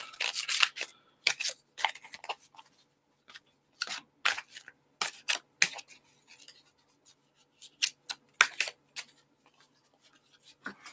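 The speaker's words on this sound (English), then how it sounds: "This one is really hard to shuffle, though, because these are some thick cards." Thick, shiny-edged tarot cards are shuffled in repeated crisp bursts of riffling and slapping, close and fairly quiet, with short pauses between passes and no talking.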